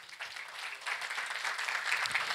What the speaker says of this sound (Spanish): le cerramos un fuerte aplauso de bienvenida